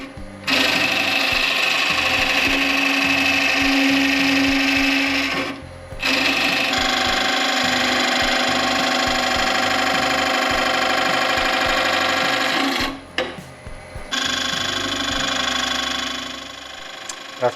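A lathe spins a cylinder blank made of corrugated cardboard while a carbide tool cuts it, giving three long, steady whirring runs separated by short pauses as the machine stops and restarts nearby.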